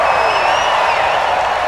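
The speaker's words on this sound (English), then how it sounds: "the home crowd applauding" A home crowd applauding in a Madden NFL 20 stadium, a loud continuous wash of clapping and cheering with whistle-like tones running through it, steady and sustained.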